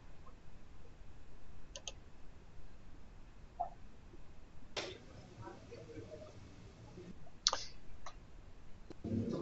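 A few sharp mouse clicks during a library database search, each short and fairly close, scattered over a quiet room background.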